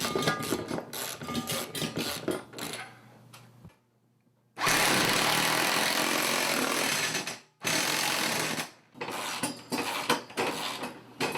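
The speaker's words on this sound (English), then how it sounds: "Trying to get it into a point where it'll bite into the stud, and then I'll use the impact wrench on it." An impact wrench drives a bolt up into a ceiling stud for a heavy CRT projector mount, loud rapid hammering bursts in several runs separated by short pauses.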